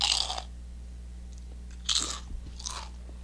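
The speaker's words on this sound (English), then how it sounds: "Whoever makes the loudest crunch noise" Kettle cooked jalapeno chips being bitten and chewed up close, with a sharp crunch at the start, another loud crunch near the middle and a smaller one after, separated by quiet pauses.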